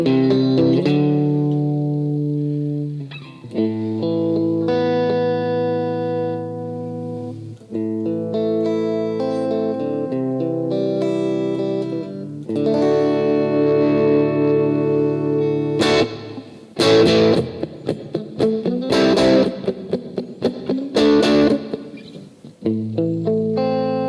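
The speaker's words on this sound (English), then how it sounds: "it's not overly distorted, but it's a clean distortion." Electric guitar played through a NUX Solid Studio amp simulator with mild, clean-edged distortion: sustained chords, then choppy strummed and muted stabs, with some reverb and echo.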